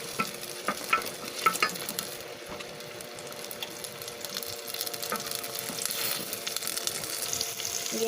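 Sauce sautéing in a pan on a home stove, a steady close sizzle with stirring clinks and scrapes running throughout, no voices.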